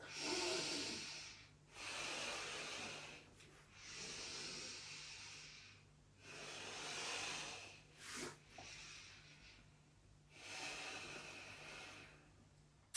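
Slow, deep, rhythmic breathing during a yoga sun breath vinyasa, with long airy inhales and exhales repeating about every two seconds. It is close and alone over a faint low hum.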